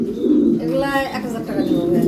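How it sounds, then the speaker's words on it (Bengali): Soft pigeon cooing in short repeated phrases, mixed with people talking nearby. "এই যে আরেক জোড়া কবুতর"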